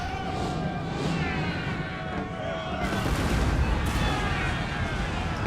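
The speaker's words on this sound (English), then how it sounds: "We're going to halt so we can fire." Musket volley fire in the video game Napoleon Total War with the Darthmod mod, a dense, continuous crackle of massed shots and distant booms, swelling partway through.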